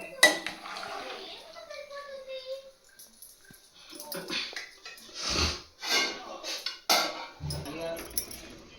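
Pots, pans and cutlery clatter in a home kitchen while a grandmother cooks rice, with sharp metallic clinks and scraping bursts coming close and fairly loud, and a voice briefly sounding between them.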